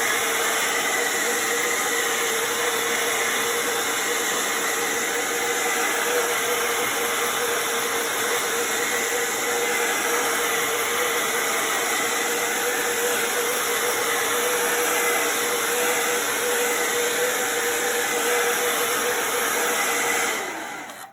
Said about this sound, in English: What I do to accelerate the drying process is I use a hair blower